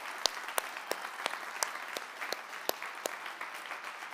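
A church audience applauds the next generation with sparse, scattered claps. Individual sharp hand claps sound fairly quiet and slightly distant, spaced irregularly rather than as a dense roar.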